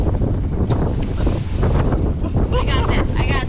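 Strong gusting wind on Lake Okanagan while sailing roars across the microphone in a loud, constant buffet, with choppy waves slapping the hull and a faint voice underneath.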